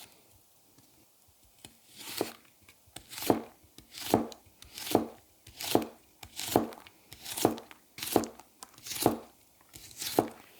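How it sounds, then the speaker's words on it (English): A knife chops a very crisp, turgid carrot into allumettes on a board, giving about a dozen sharp, evenly spaced cuts that are close and fairly loud, with no talking. "The carrot was so turgid that when I cut into it, into little allumettes,"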